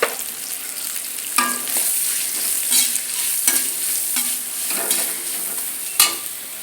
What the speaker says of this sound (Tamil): முதல்ல இந்த வெங்காயம், பச்சை மிளகாய், தேங்காயை நல்லா வதக்கிக்கலாம்.